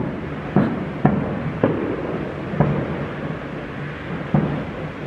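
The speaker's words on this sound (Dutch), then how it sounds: "Vuurwerk." Distant fireworks on a cold night thud and pop about five times at irregular intervals, each burst a muffled boom with a short tail against quiet outdoor background.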